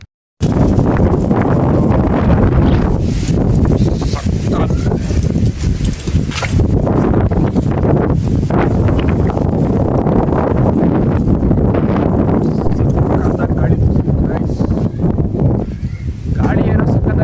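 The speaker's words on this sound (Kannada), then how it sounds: "ಗಾಳಿ ಏನೋ ಸಕ್ಕತ್ತಾಗಿ ಬೀಸುತ್ತೆ" Strong outdoor wind roars continuously across the microphone in a loud, gusty rumble where fallen leaves are being blown around, steady for the whole stretch with only slight dips.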